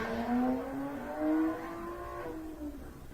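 A car revs outside, its engine pitch climbing and falling in a couple of surges before easing into a steady drone, heard at moderate distance with no talking.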